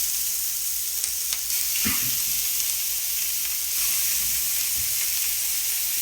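Patties of feta, spinach, onion and garlic fry in a pan, with a steady close sizzle and hiss and a couple of brief scraping or stirring knocks.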